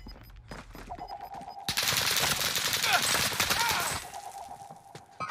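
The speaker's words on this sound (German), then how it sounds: "Da schießen von überall welche auf den." Gunfire rattles across Rebirth Island in Call of Duty, a sustained burst of rapid automatic shots lasting a couple of seconds, loud and continuous, bracketed by quieter game ambience.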